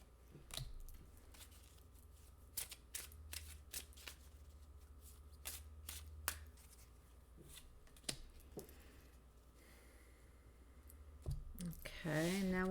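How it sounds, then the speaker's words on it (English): Soft, quiet riffling and clicking of tarot cards being shuffled by hand, in short irregular bursts close by, with a brief voice near the end. "So let me just shuffle these cards a time or two."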